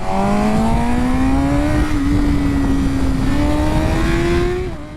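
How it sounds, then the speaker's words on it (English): BMW S1000RR sport motorcycle accelerating as the throttle opens, engine note rising steadily in pitch, loud and close for several seconds before easing off at the end. "I opened the throttle just a bit, and it already speeds up a lot."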